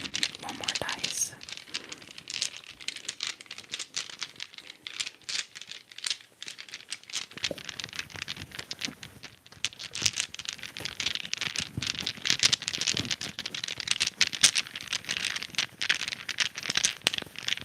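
Small dice rattle and click while being handled in an intimate whispered tarot setting, a steady stream of close, soft clattering and crinkly contact noises with faint whispering.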